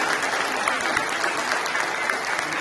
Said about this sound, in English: big round of applause for our Department of Visual and Performing Arts, our music department